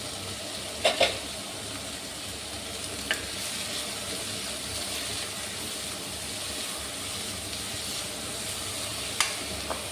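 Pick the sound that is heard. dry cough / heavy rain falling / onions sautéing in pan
onions sautéing in pan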